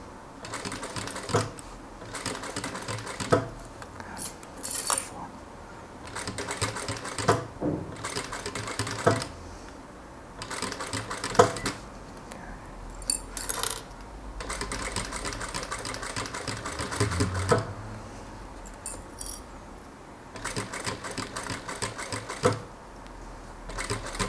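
A sewing machine stitches bias tape onto fabric in uneven runs, its rapid mechanical whirring starting and stopping as the material is fed through, close and fairly loud with no talking.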